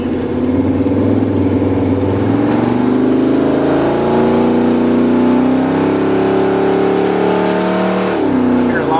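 A truck's LS7 V8 engine, fitted in an S10, revs up loudly and steadily climbs in pitch, holds a high strained drone, then drops off near the end, heard close and alone.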